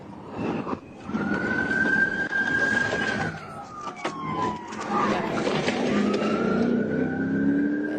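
Police cars race past at high speed with sirens wailing and rising engine roar, the siren tones sweeping up and down over steady road noise, fairly distant and moderately loud, with no talk.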